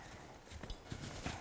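Horse hooves in a sitting trot on a dressage arena surface, a steady rhythmic clip-clop of muffled beats, fairly faint and close, with no talk over it.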